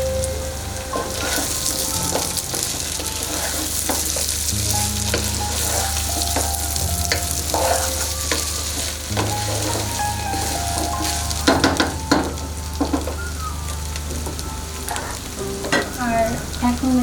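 Biryani cooking in a pot with fried potatoes added, a constant loud sizzle of frying with repeated scraping and stirring clatters of a spoon against the pot.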